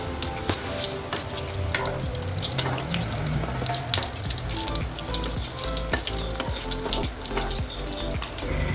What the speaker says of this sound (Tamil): மீடியம் டு லோ ஃப்ளேம்லேயே வச்சு பொரிச்சு எடுத்துக்கோங்க